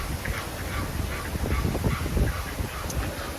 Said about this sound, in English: Look how happy these birds are.